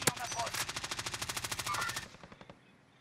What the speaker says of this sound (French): Je me prends des balles de l'ennemi.